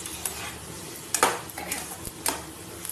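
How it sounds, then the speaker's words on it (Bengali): A spoon scrapes and stirs jackfruit curry in a pan over the heat, with a few sharp metallic clinks and soft scraping strokes, fairly faint and with no talking. "ওই জন্য একটু ভালো করে নাড়িয়ে চাড়িয়ে বেশ কিছুক্ষণ ধরে নাড়াতে হবে"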